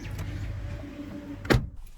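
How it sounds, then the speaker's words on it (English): A parked car's door is opened, with a short sharp latch click and thunk near the end after quiet interior room tone. "so let me open the door."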